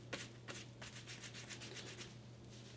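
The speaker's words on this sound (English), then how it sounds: "let's see if this rubs off." Fingertips rub repeatedly over a Batman-style temporary tattoo on skin, a soft, close, steady scratchy friction in short strokes, with a faint steady hum underneath.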